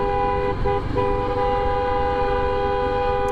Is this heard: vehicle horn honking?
yes